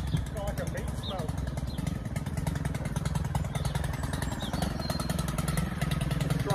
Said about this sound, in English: We're now going to get the earth auger fired up.